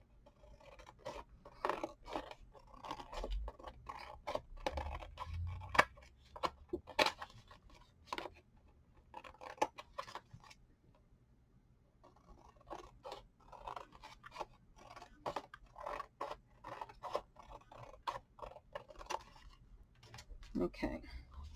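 Scissors cut paper for making box beads, giving a long series of close, crisp snips and scraping cuts in irregular bursts, while a voice talks intermittently.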